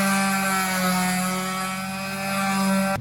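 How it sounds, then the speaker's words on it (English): Power sander running on a wooden table, a steady loud motor whine with a constant buzzing hum that holds for a few seconds and then cuts off abruptly. "we finished sanding it down"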